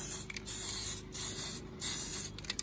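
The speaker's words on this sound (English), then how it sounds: "So you just start spraying in. You get nice even coats in there." Aerosol spray paint hisses in steady bursts as even coats go onto a 5T body, close and loud with short pauses between passes.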